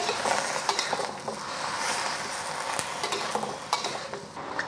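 Red peppers sizzle and fry in a pan, with a steady crackle broken by spoon stirring and occasional clinks against the pan, close and fairly quiet, with no voices.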